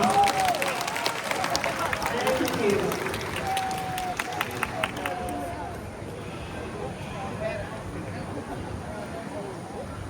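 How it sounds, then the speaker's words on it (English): An audience at an outdoor amphitheater bird show claps in a steady burst that thins out and fades after several seconds, with a presenter's amplified voice and a bird's call over it. "Give him a big round of applause."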